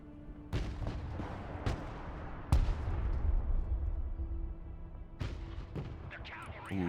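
Missiles launch and burst in a modern real-time strategy game, with several sharp loud blasts spaced a second or two apart, each trailing off into a rumbling decay, under occasional radio-style unit voices.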